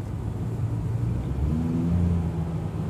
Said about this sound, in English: The engine is maybe a little noisier